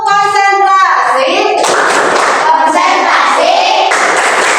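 Schoolchildren in an Indonesian classroom do a rhythmic concentration clapping game, claps mixed with a teacher's voice and children chanting along throughout.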